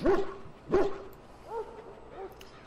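Barks from war dogs in the Dragon Age: Origins video game, two sharp close barks near the start followed by softer whining yelps, with a faint background voice.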